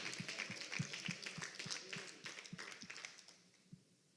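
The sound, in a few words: congregation applauding in church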